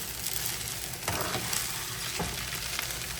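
Noodles in sauce are stirred in a hot pan, with a continuous close sizzle and frying hiss and a few scraping strokes of the spatula, with no voices.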